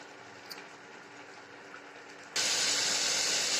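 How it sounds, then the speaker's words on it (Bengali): Water is poured into a pan of fried spices and rohu fish for a curry, bringing a sudden loud, close rush of hissing sizzle after a quieter stretch of frying. "তারপরে জল দিয়ে দেবো।"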